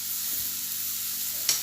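Onion frying in a pan gives a soft, steady sizzle, with a short scrape of stirring near the end, and no one speaks.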